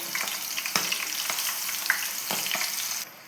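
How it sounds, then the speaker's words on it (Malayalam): Steady crackling sizzle of prawns frying in oil over medium flame, close and continuous, with small pops and stirring scrapes, fading slightly at the end. "ഇതൊരു മീഡിയം ഫ്ലെയിമിലിട്ട് വറുത്തെടുത്താൽ മതിയേ നന്നായിട്ട് മൊരിയണം"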